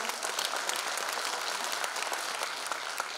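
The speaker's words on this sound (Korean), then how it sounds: "박수 소리를 들으니까 정말 맞는 것 같습니다" Residents applaud at a lawmaker's town hall report meeting in Jungnang-gu, Seoul, a sustained, even crackle of many hands from the crowd that stays fairly distant and constant before ending.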